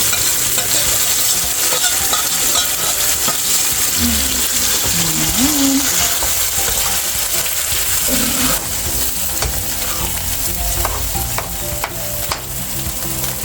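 A mung bean dish with fresh bitter gourd leaves is stirred in a hot pot, with steady sizzling and repeated scraping and clattering of the utensil throughout, loud and close.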